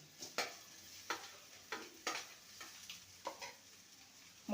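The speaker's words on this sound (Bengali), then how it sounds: "এবার ভেজে রাখা করলা আর আলুকে দিয়ে দেবো" Fried bitter gourd and potato being tossed with spices in a pan, a few distinct spatula scrapes and taps at uneven intervals over soft sizzling, close by and fairly quiet.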